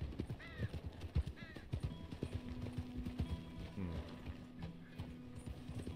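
Horse hooves clip-clop in an uneven rhythm in Red Dead Redemption 2 on PS5, with a short whinny early on, mixed with game background sounds and some talking.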